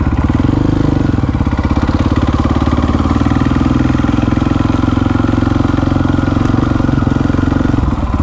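A supermoto motorcycle engine runs steady and loud up close, holding a constant throbbing idle-like drone with a rapid mechanical pulse and no speech.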